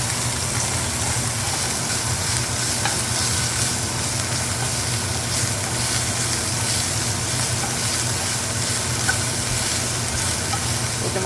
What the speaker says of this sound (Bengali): এটা মোটামুটি একটু ফ্রাই হবে